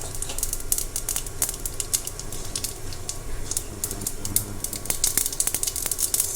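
Mustard seeds, urad dal and chana dal sizzling in hot oil, with a steady stream of sharp crackles and pops over a soft frying hiss, moderately close.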